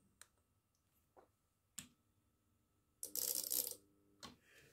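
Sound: antenna tuner relays clicking

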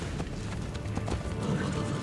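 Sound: horse hooves galloping in video game Assassin's Creed Brotherhood

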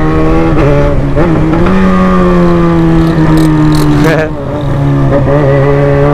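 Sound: motorcycle engine revving

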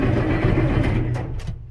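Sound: Allis Chalmers tractor engine starting

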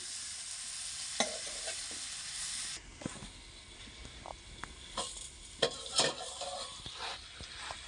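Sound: spices and pumpkin cooking covered in a pan

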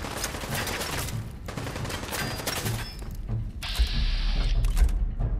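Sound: gunfire in the video game Fallout 4

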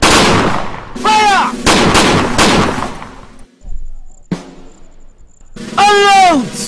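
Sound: gunfire

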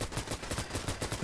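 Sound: VHS-2 bullpup rifle gunfire, Fallout 4 video game

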